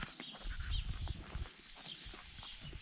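Horse hooves clip-clop on a hard surface near a house with a garden, a busy run of uneven low knocks that stays steady and moderately loud without talk.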